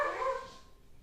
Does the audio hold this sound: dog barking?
yes